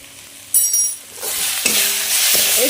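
Ground spices, salt, Kashmiri chilli and cumin sizzle in hot oil in a pan for an echor chingri curry of jackfruit and prawns, with a sharp clink followed by steady close frying and spatula stirring scrapes.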